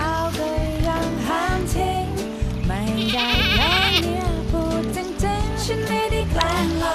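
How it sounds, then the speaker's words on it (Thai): Goats on a goat farm at Doi Ang Khang bleat continuously, many loud overlapping cries close by that keep going without any break. "มาดูแพะกันแบบใกล้ๆนะครับ"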